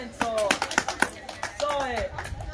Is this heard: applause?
yes